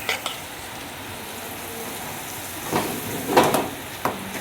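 Fried bitter gourd pachadi with coconut being stirred in a pan, giving a soft steady sizzle with a few scraping stir strokes near the end, close and fairly quiet.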